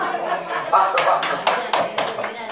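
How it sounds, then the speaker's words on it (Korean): A small group claps hands together in a few quick, uneven bursts of sharp, close claps, with people talking and chuckling around them. "박수, 박수."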